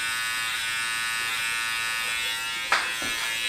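Electric hair clippers cutting hair for a low taper haircut, a steady close buzzing hum throughout with a brief sharp scrape near the end, no talking.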